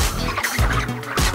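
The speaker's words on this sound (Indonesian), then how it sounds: "Ayam yang kita kumpulkan ini adalah ayam pedaging" Month-old broiler chickens weighing over a kilogram, gathered by a poultry collector, clucking and squawking loudly and close up in a short burst of overlapping calls.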